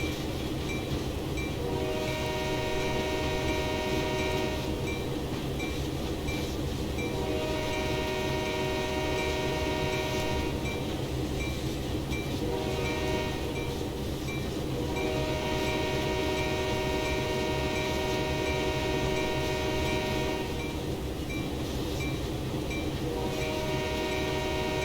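A freight train runs in a train simulator game on the Oakville Subdivision, with a constant low engine rumble and rolling wheel noise under repeated long horn blasts that recur every few seconds, close and loud with no talking.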